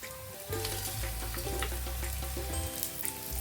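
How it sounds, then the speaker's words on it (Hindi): Masala spices frying in a pan with onions for a Maharashtra-style prawn curry, giving a steady soft sizzle with intermittent stirring scrapes close by. "अच्छी तरह इसे चला के फ्राई करना है"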